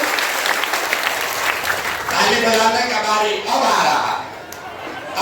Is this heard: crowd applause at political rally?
yes